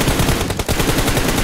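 Rapid automatic gunfire in the shooter game PUBG Mobile, loud and close, a fast continuous burst of shots with a brief gap partway through.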